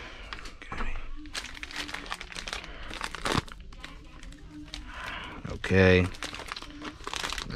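Plastic packaging of a Nerf toy crinkles and crunches as it is pulled open, close and irregular in bursts, with a person talking intermittently over the rustling.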